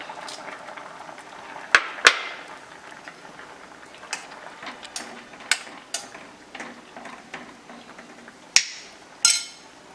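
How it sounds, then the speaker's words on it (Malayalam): Red lentil (masoor dal) curry boiling in a pot on the stove: a steady soft bubbling hiss broken by scattered sharp pops and clicks, with no voices. "പരിപ്പൊന്ന് നന്നായി തിളച്ചിട്ടുണ്ട്"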